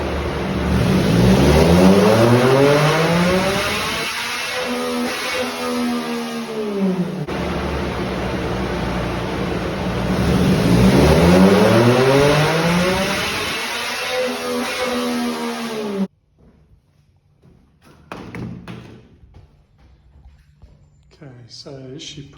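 A 2016 Yamaha MT-09 motorcycle engine revving hard on a dyno, rising through two long loud sweeping pulls before cutting off abruptly. Quieter clatter and brief sounds follow, with people talking.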